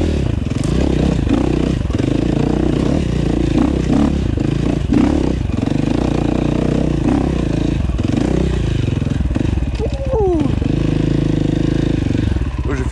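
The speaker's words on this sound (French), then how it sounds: "Là je vais vous faire profiter du bruit de la ligne Accra." An enduro motorcycle with an Akrapovic exhaust line runs close by off-road, its engine revving and rising and falling in pitch throughout, with clatter and scraping from the terrain under the steady loud drone.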